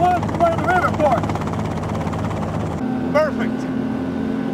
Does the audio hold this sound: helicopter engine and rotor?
yes